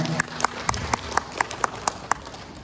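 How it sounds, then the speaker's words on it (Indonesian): An audience applauds a conference speaker, heard as a modest spread of claps with distinct louder slaps at a loose, fairly regular beat, moderately close and without talking over it. "kita kasih aplaus SS Jagobuli"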